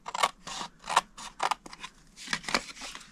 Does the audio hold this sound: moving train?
no